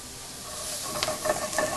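Onions dropped into melted butter with a little olive oil in a hot pan, a steady bright sizzle that swells with a few stirring scrapes and crackles over a short stretch.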